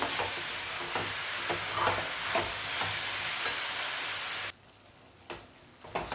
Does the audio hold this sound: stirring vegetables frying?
yes